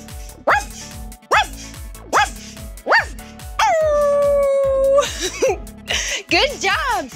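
A person imitates a dog with a run of playful voiced barks, then a long drawn-out howl and whimpering yips, loud and close in a children's educational setting.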